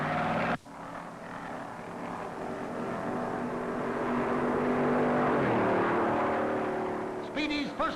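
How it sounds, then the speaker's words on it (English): Speedy Thompson's Chrysler 300B race car at the 1956 Darlington Southern 500, engine roaring in a long sustained drone that swells and fades as it passes, with crowd and track ambience behind. "Speedy Thompson rolls out in a Chrysler 300B"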